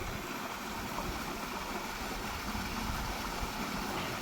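Water gushes steadily from the pipe of a tube well motor in a field, making a close, continuous rushing splash with no voices.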